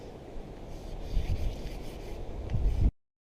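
Sandpaper rubbed by hand over a boat hull during restoration, a rough scratching in uneven back-and-forth strokes, close and fairly loud, before it cuts off abruptly near the end.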